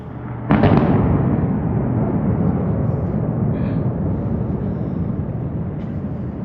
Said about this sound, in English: Any indication where this explosion is supposed to be?